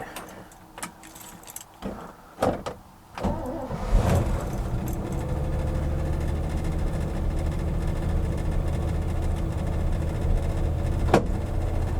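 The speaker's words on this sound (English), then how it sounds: "we're going to do a cold start here, true cold start" A 1957 Corvette Fuelie fuel-injected engine starting from cold after sitting unrun in a showroom: a few clanks and cranking bursts, then it catches into a steady, loud rumbling idle that carries on to the end.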